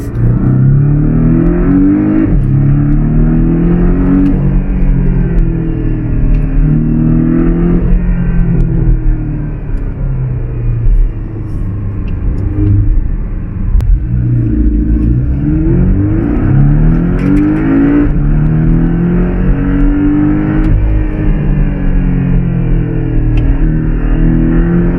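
Porsche 718 Cayman two-seater driving on a street, its engine droning and rising steadily through repeated revving surges, loud and close from inside the cabin, with no talking.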